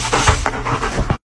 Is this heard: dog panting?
yes